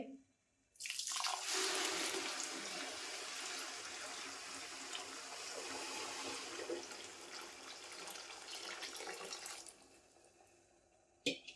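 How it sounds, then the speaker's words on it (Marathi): Hot milk is poured slowly into a large pot of semolina for Satyanarayan puja prasad, making one continuous gushing, splashing stream that lasts about nine seconds and then stops. "आता मी दूध ओतून घेते. तर दूध असं सावकाश ओतावं लागतं"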